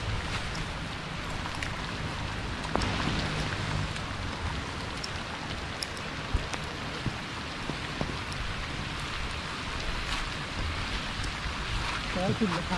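Steady rain falls through a rainforest on the Thai–Cambodian border, a dense continuous hiss of drops on leaves and surfaces with occasional louder patters, close and enveloping throughout.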